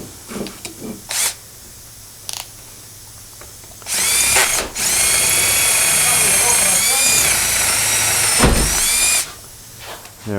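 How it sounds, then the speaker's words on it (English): A power drill runs through metal in long, loud whining bursts, starting and stopping several times with short pauses between, and someone speaks in the gaps. "I'm just going to run the drill down through here maybe."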